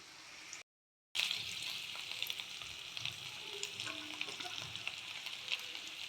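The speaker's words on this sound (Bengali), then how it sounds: "আলুগুলো ভাজা হয়ে গেছে" Potatoes with turmeric and salt fry in a pan with a steady, close crackling sizzle. It cuts out briefly near the start, then continues evenly with small pops.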